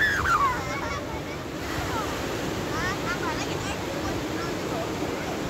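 Ocean waves break steadily on a beach at Ngerumput, Gunung Kidul, making a continuous close roar of surf mixed with wind buffeting the microphone, while faint voices sound in the background.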